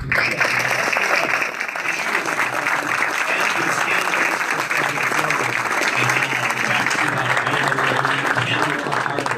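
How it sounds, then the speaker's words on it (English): A crowd at a governor candidates' forum in Soldotna, Alaska applauds the pledges, with loud sustained clapping from many people filling nearly ten seconds, evenly dense throughout. "This is the point where we applaud all of the pledges."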